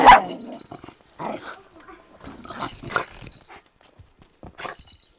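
A dog barks sharply once, loud and close, then keeps up a run of throaty growls, yips and whimpering grumbles in uneven bursts with short gaps between.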